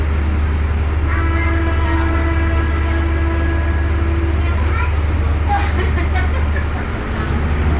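The Batara Kresna executive passenger train rumbles steadily along the Jogja–Solo main line at close range, with a drawn-out horn tone and a voice talking over the noise.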